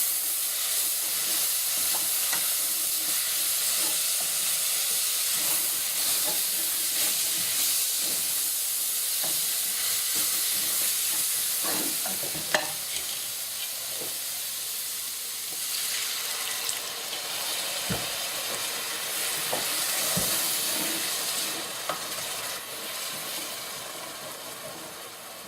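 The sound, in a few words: deglazing pan of caramelized onions with beef broth, sizzling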